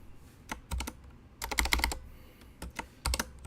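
Computer keyboard typing in a few uneven bursts of keystrokes, close and fairly quiet, with pauses between the clusters and no talking.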